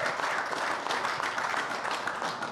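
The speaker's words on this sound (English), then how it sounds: "I'd give this big man a clap as well." A studio audience applauds on the set of a rugby talk show, a dense and steady patter of many hands clapping at moderate volume for the whole stretch, with no speech over it.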